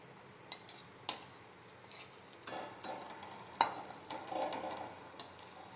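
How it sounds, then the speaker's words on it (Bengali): Bora fritters fry in a pan with a soft, quiet sizzle, broken by sharp utensil clacks and scrapes against the pan at irregular intervals. "এই যে এখন বড়া ভাজছি"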